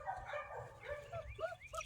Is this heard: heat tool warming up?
no